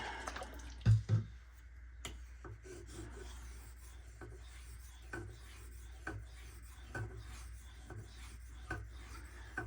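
Spyderco Sage 5 folding knife blade being sharpened on a 2500 grit stone, a quiet wet rhythmic scraping of strokes repeated at a steady pace, with a couple of louder knocks near the start.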